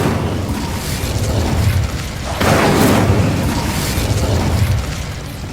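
A sustained roaring, whooshing blast from the Incendio fire spell in Hogwarts Legacy, loud and broadband, swelling midway and holding with no talk.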